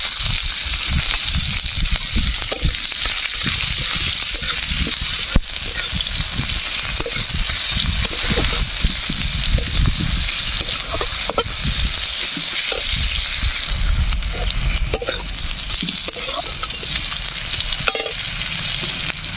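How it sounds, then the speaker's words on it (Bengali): Chopped onions fry in a pan with bay leaf, dried red chillies and whole cumin, giving a steady, close sizzle with crackling pops that runs continuously throughout. "দিয়ে দেবো কেটে রাখা পেঁয়াজ কুচিগুলো"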